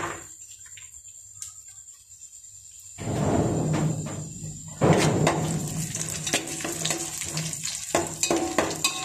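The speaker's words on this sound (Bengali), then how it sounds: "ঘিয়ে কাজু বাদাম দিয়ে দিয়েছে" Cashew nuts drop into hot ghee and fry with a sudden loud sizzle that swells and keeps crackling, with metal spoon scrapes and clinks against the pan, close up.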